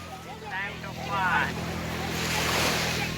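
Surf at Shivrajpur beach near Dwarka rolls in as a steady wash under gusty wind noise, with voices talking over it.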